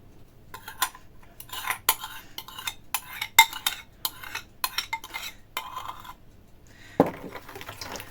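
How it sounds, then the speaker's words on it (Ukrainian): A spoon scrapes and clinks against a bowl as dough mixed with melted butter is stirred for an Easter paska bread, an irregular series of close knocks and scrapes. "Все це добре перемішуємо."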